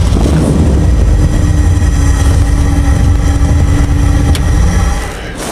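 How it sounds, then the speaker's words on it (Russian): A vehicle engine runs loud and steady throughout, a continuous mid-pitched motor drone with a faint whine, dropping slightly in level at the very end; no talk. "Запуск двигателя."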